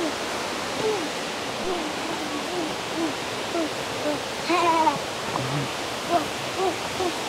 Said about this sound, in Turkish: Bir de şu su sesi var.